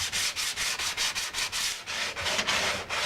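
Hand sanding of a repaired track bike fairing part: quick, rhythmic back-and-forth rasping strokes, close and steady, with no voices.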